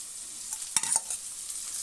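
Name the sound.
stirring ginger garlic paste and fennel in pan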